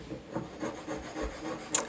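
Short dry rasping strokes of hand-sanding stone with a fine sandpaper block, a few rhythmic rubs close by, ending in a brief brighter scrape.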